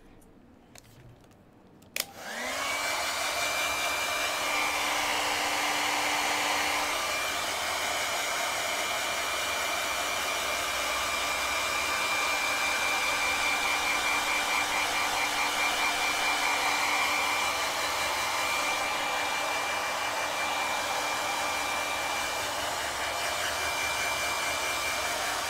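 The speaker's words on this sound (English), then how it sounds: "I'll just use a hair dryer and go ahead and speed this along." A hair dryer blows over wet acrylic paint on a dolphin canvas, switching on with a click after a short quiet moment and then running as a loud, steady whine and rush for the rest of the stretch, no voice over it.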